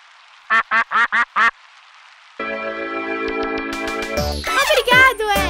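A cartoon duck from the children's show Pocoyo gives five quick, loud, evenly spaced quacks. Brief silence follows, then bright music with other cartoon sound effects.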